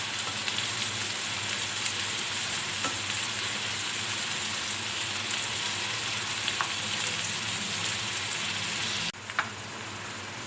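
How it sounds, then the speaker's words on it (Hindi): Chopped onions softening in a hot frying pan for mutton stew, a continuous dense sizzle with faint crackles, steady and close, briefly dipping near the end before resuming. "प्याज को हमने ब्राउन नहीं करना, बस इतना हम फ्राई करेंगे कि प्याज जो है सॉफ्ट हो जाए।"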